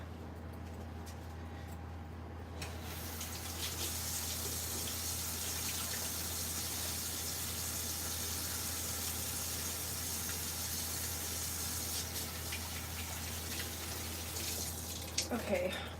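Water runs steadily from a kitchen tap for hand washing during pasta cooking, a constant broadband rush lasting throughout with a brief quieter start and a few clatters near the end.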